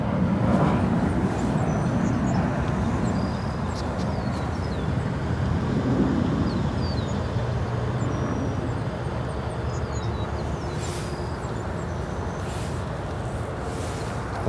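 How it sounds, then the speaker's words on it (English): A Boeing 737 departs O'Hare Airport with a broad, sustained jet roar, loud and steady at first and easing slightly as it goes, with wind buffeting the microphone and no voices. "Looking at that E175 with the departing 737 behind it"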